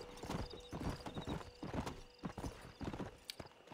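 Horse hooves clip-clop steadily in Red Dead Redemption, a close, rhythmic run of hoofbeats with a brief whinny, no talking over it.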